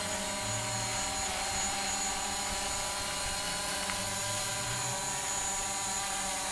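Hubsan Zino drone hovering after automatic takeoff outdoors, a steady whining buzz of rotors that holds evenly at moderate loudness with no talk over it.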